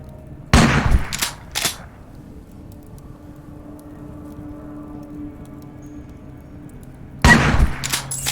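Shotgun blasts in a video game's Junkyard A survival fight: three quick, loud, sharp reports close together, a long pause filled with low ambient hum, then another tight pair of booming shots.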